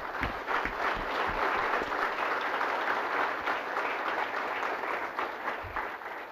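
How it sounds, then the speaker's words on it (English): Steady applause from a conference audience at a GNU Radio developer conference talk, dense continuous clapping filling the room for several seconds before tapering slightly near the end. "So if you could just get a round of applause for them."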